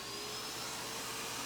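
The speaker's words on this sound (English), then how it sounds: "I'm using a vacuum, so you're going to have to listen to that to clear chips" A shop vacuum clearing chips during a CNC slotting pass gives a continuous, even, high-pitched roar that runs unbroken from start to finish.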